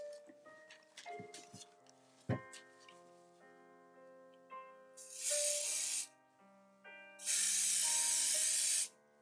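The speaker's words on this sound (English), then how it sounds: "I'll go ahead and spray the inside of the card" Aerosol spray can misting the inside of a slimline napkin card, two long steady hissing bursts close by, separated by short pauses amid light handling clatter.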